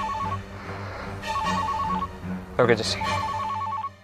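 Telephone bell ringing from an incoming call in an office setting, a repeating electronic ring pattern heard in bursts under and between spoken Hindi dialogue.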